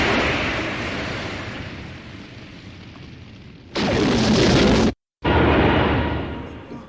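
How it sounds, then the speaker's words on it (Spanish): Explosion of a ghost train generator at a fairground festival: a broadband roar bursts in over ongoing noise, cuts off abruptly for a moment, then returns and slowly fades. "¿De dónde viene esa explosión?"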